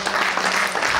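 Church congregation applauding in a short burst of dense, steady clapping that fills the room.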